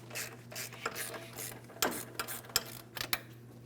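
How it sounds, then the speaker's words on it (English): A ratchet loosens the ball joint mounting nut on the steering knuckle of a 2007-2014 GMC Sierra 2500 HD truck, giving irregular sharp clicks and short bursts of ratcheting over a steady low hum, close and with no talk. "while I continue loosening my mounting nut"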